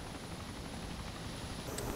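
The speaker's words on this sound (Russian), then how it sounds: "Вертолет сел, знаешь где?" A helicopter in the video game Arma 2 sets down, its steady rotor roar and engine drone filling the scene, loud and continuous.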